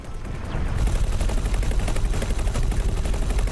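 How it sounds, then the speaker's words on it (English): Space-combat turrets in a space trading video game fire in a dense, continuous rapid barrage, loud and steady for several seconds with no talk over it. "Hit them, turrets."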